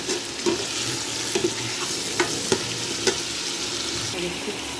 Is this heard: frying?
yes